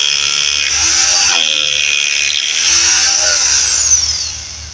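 A power drill bores holes while making a triple-lattice slab joist, a loud, close, high whine that rises and falls in pitch as the bit spins up, cuts and slows.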